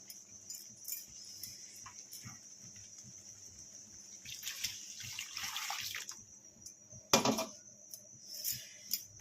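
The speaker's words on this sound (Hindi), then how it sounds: "चलंतु एबे पानी दे देबा।" Water is poured into aloo matar masala cooking in a pan, giving a soft hissing splash that swells for a couple of seconds, with faint clinks and kitchen sounds around it.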